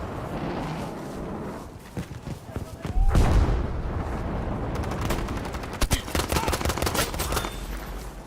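Gunfire in Battlefield 5 pops in steady bursts, with a heavy boom partway through and rapid rifle shots rattling afterward, loud and near over game ambience while a player talks.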